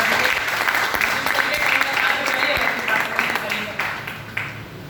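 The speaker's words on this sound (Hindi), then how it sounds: "एक बार जोरदार ताली बाजी के लिए।" An audience at a Hindi poetry recitation gathering breaks into vigorous applause, a thick burst of clapping that gradually tapers off, with a speaker's voice partly over it.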